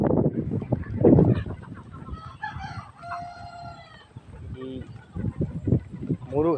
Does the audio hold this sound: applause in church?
no